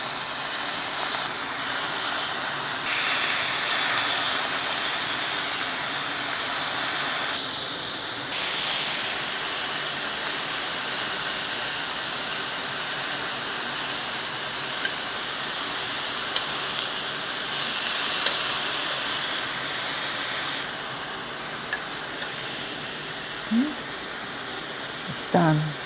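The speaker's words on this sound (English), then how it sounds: "Heat the pan over medium to medium-high heat and you want to add the beef into the pan." Beef for Korean royal barbecue sizzling in a hot pan over medium-high heat, a loud continuous hissing spatter that swells and settles in waves, with a few faint clinks near the end.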